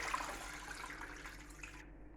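Water is poured from a kitchen tap or jug over a gammon ham to soak it, a soft, steady splashing rush that stops abruptly near the end.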